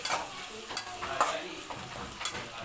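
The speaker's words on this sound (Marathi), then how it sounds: "लो फ्लेम वरतीच आपल्याला हे छानपैकी परतून घ्यायचं आहे।" Garlic and curry leaves fry in oil over a low flame, giving a continuous soft sizzle with quick scrapes of stirring and no talking.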